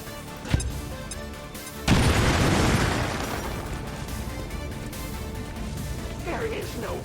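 A frag grenade detonates in the game XCOM: War of the Chosen, a sharp crack followed by a loud, broad blast that rolls on and slowly fades, with a voice speaking over the scene.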